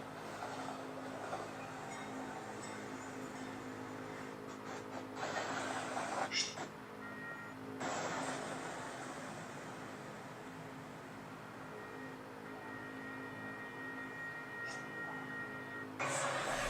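Amtrak's Southwest Chief passenger train going by at a crossing, a steady broad rumble and rushing roar that holds for the whole stretch with brief swells as cars pass.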